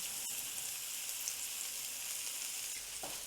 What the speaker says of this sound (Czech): A budeme to nějakou dobu smažit, opékat na tom ghee s tím kořením.